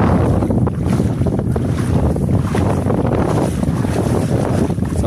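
Strong wind roars across the microphone aboard a fishing boat at sea, a steady loud rushing gust with low buffeting rumble and a hint of waves, with no voices.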